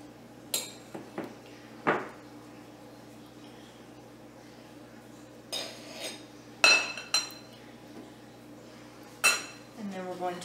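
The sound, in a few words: mixing flour into pasta dough in a bowl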